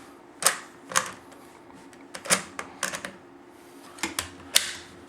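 Metal clicks and clacks from an SKS Paratrooper rifle as its modified bolt carrier is worked and locked into place, a series of sharp close mechanical snaps at irregular intervals with no talking.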